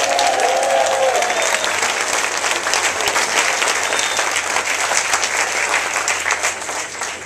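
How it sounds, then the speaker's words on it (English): A concert crowd at a children's Jewish choral festival gives a loud, sustained round of applause for two honorees, a dense, continuous roar of clapping that eases slightly near the end. "let's have a huge round of applause for Ellen and Peter Allard"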